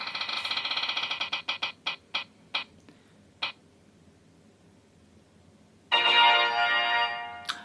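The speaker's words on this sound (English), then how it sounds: "every time I touch my phone it goes off and starts giving me notifications for things" A phone gives off a rapid run of bright electronic chimes that stutters into separate beeps and stops, then after a quiet gap a second burst of dense ringing tones plays loudly.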